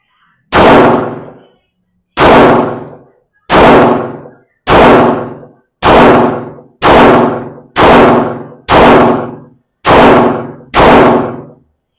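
Ten sharp, loud pistol shots from a Springfield Armory SA-35 ring out one at a time at a slow, even pace, each with a short ringing decay. No talking.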